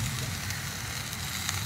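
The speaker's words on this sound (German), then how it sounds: "Jetzt wird Nackensteak gegrillt." Pork neck steak on a gas grill outdoors by a river, producing a steady, close fatty sizzle with crackling and low burner roar, continuous and without talking.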